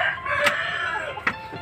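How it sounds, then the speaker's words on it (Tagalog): Chickens kept for sale crow and cluck close by, with two sharp calls standing out over a steady low clucking background. "Ito yung mga manok na binibenta natin."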